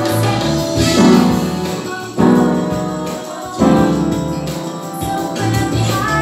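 Jazz-fusion chord progression, played as sustained harmonic chords with three swelling attacks and a steady low bass, moderately loud and with no talking.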